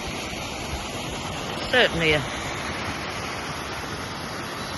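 Waterfall in the Welsh mountains, a steady, even hiss of falling water filling the whole clip, with someone briefly speaking a word over it partway through.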